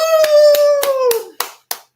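People clap for a pageant win, a handful of sharp claps in a slow rhythm over a sustained sung or hummed tone that fades out.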